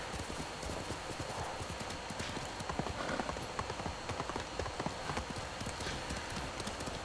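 A horse in the game Ghost of Tsushima clip-clops at a steady gallop, hooves pounding in a continuous fast rhythm close by, with game ambience underneath.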